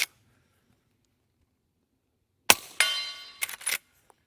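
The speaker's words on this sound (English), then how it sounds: "you're going to see how quiet this setup is with the suppressor" A suppressed Henry lever-action rifle firing regular .38 Special rounds: a sharp muffled report after a silent stretch, then a metallic clatter of the lever cycling, followed by a second shot and quick mechanical clanks, all without talk.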